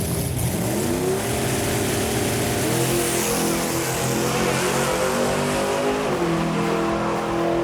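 A loud V8 engine in a 1970 Ford Mustang on drag radials revs hard and climbs through gears in a sustained roar, close up, launching and pulling away with no talking.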